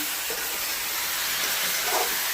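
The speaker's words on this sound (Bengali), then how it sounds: "মশলা দু মিনিট কষানো হোক সবজিগুলো একটু ভাজা হোক" Drumsticks and other vegetables fry with coriander, cumin, turmeric powder and salt in a pan over a clay stove, giving a steady, close, broadband sizzle and hiss throughout, with no talking.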